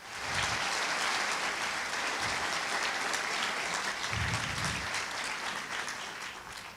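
Broad, steady applause from a large crowd at the opening celebrations of a canonization ceremony, a continuous roar of clapping that tapers slightly at the end.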